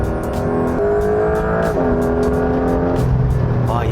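A new rear-engined Porsche 911 GTS hybrid accelerates hard, its engine note climbing in loud, close pulls broken by quick gear changes.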